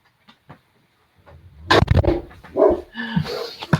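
A dog barks outdoors in a few loud, close bursts, with a couple of faint softer sounds at the start.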